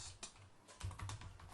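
Rapid keystrokes on a computer keyboard during a Comsol simulation session, a quick run of close, crisp clicks of moderate loudness over a low background hum, with no talk.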